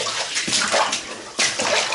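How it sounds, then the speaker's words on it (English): Someone wades through water in a tunnel and stirs it up, producing steady sloshing and splashing that stays close and loud throughout with no pauses. "See, this time I get to stir the water up, and then you can't see where you're going."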